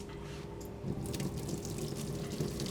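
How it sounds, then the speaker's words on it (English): Water being poured out of a pot of boiled potatoes while making shepherd's pie, a steady splashing rush of liquid into a sink that swells slightly partway through and continues without talk. "Now we'll pour that out."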